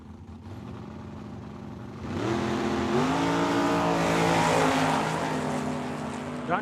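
Drag racing cars at Tucson Dragway, a Mopar and a Roadster, launch together: a low idle rumble swells after two seconds into a loud roaring engine note that rises in pitch and holds steady.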